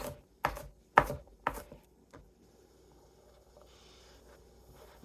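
Food chopped on a cutting board with a knife worked back and forth in different directions: three or four sharp, close chops in quick succession, then a single fainter one and a quiet tail with no talk.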